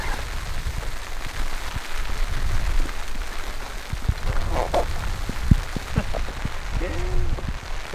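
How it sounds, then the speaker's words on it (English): Wind-driven snow pelts a backpacking tent in Zion National Park, a continuous close crackling patter with irregular thumps and flaps of the fabric, and some indistinct voices inside. "it's been snowing, it's been super windy"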